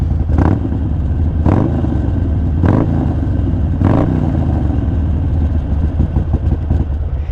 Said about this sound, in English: So I'll give you guys a couple little quick little revs.